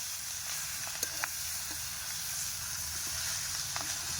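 Chopped mixed leafy greens fry in a pan with a steady, close sizzle and hiss throughout, broken by a few faint clinks of stirring.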